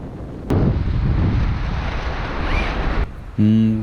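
Wind on a beach during a kitesurfing session roars into the microphone in a sudden loud gust that holds steady, then drops away briefly before a harsh buzzing burst at the end.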